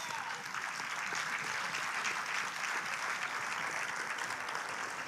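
Church congregation applauding, a dense, even wash of clapping from a crowd that holds steady for the whole stretch, somewhat distant and soft.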